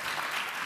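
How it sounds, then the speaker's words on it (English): Conference audience applauding, a dense, steady wash of many hands clapping together, brief and moderately distant with no voices over it. "Big round of applause."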